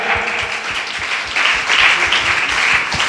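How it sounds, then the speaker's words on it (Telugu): A church congregation claps loudly together during a Telugu sermon, a dense, steady wash of applause that swells slightly midway and holds to the end. "చప్పట్లు కొడదాం ఒకసారి గట్టిగా గట్టిగా"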